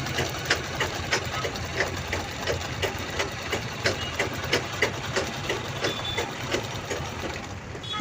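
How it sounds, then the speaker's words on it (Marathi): A sewing machine runs steadily at close range, stitching a cloth bag with a fine lock stitch at setting 3, its needle ticking in a fast even rhythm over a constant motor hum. "तिन्ही बाजूने आपण शिलाई लावून घेणार आहे. वरतून तसंच करायचं, आपल्याला लॉकची शिलाई द्यायची आहे."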